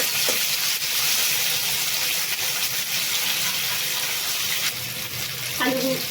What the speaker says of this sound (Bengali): আলুটাকে আমি বেশ ভালোভাবে ভেজে নেব।